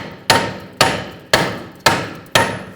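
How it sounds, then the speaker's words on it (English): A hammer strikes a stuck rear brake rotor on a 2007-2013 BMW 328i five times at a steady pace, each sharp metallic tap close and loud with a short ringing decay. "If it's stuck on there, just use a hammer."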